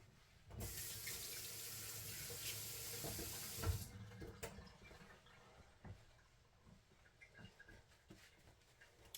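Hands rinsed under a running kitchen sink tap while cooking, a steady close splash of water for about three seconds, then quieter drips and small handling clatter.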